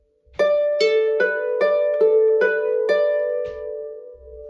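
A Manx harp plucks a phrase of the tune Half A Manx Second too Late, about seven clear notes in a steady rhythm, close and bright, each ringing into the next before fading.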